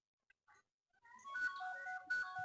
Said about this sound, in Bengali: ক্লিক করে দেওয়ার সাথে সাথে কিন্তু আমার ফোনটা বাজতে শুরু করবে।